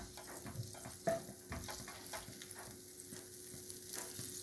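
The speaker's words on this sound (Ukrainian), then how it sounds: "робимо зажарку, кладемо масло, те, що осталось" Butter sizzles in a frying pan as leftover fat is melted before onions go in, a soft, close crackle with a few stirring scrapes and a sharper clink early on, no voices.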